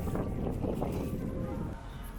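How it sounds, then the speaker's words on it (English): Wind blows outdoors, a constant low buffeting rumble against the microphone that fills the whole stretch. "it's also really windy out here."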